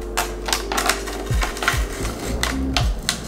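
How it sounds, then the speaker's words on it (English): Tape is ripped off a motorcycle panel during vinyl wrapping, giving a rapid, crackling run of close, sharp ticks and tearing bursts in an uneven rhythm. "you just kind of start ripping the tape off"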